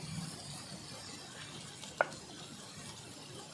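Garlic paste, ginger paste, chilli paste, turmeric, chilli powder and salt stir-fried in a pan make a faint, steady sizzle, with one sharp clink of a utensil partway through.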